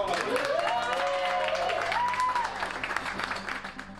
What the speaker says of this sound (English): I guess we're going to end this with a round of applause to you guys.